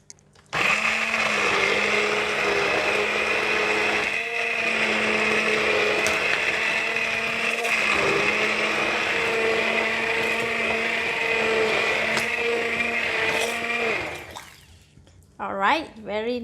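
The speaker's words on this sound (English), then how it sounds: "I'm going to use the hand blender to blend the corn and the chicken inside the pot directly" A hand blender whirs loudly and steadily for about fourteen seconds, pureeing corn and chicken directly in a pot, with slight dips in pitch as it works, before cutting off into quieter clanks, with talk heard near the end.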